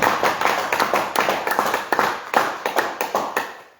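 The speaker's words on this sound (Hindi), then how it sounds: "जितने लोग आए हैं आप सबके लिए एक जोरदार ताली" Hearty audience clapping rings out at a gathering in Meerut, Uttar Pradesh, a close, brisk patter of hands that continues evenly throughout.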